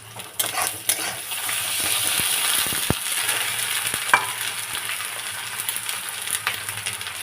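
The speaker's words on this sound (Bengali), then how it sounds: "এবারে দিলাম আদা আর রসুন, এটা কষতে থাকবো" Onion, ginger and garlic frying with cumin in a pan for a spicy fish curry, a steady close sizzle broken by scraping stirs and occasional clinks of a spoon against the pan; no one speaks.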